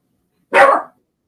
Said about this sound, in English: Oh, I hear my dog.